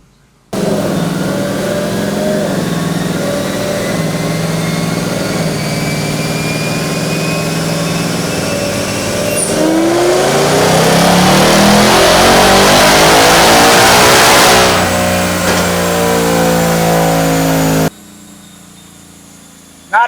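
Whipple-supercharged Ford Mustang S650 on a dyno, engine droning steadily and then climbing in pitch through a loud full-throttle pull to a peak before cutting off abruptly, close and without talk.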